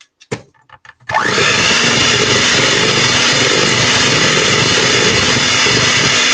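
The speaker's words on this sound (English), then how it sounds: "So we're gonna mix this together." Buttermilk pie filling being mixed with an electric blender or mixer, which starts after a few faint knocks and then runs as a loud, steady, unbroken whir to the end.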